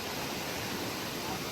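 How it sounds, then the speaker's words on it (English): Rushing water at Kings Creek waterfall on a foothills trail makes a broad, steady roar with no breaks, close and loud, like a continuous hiss of falling water. "All right, we're getting real close to the falls here."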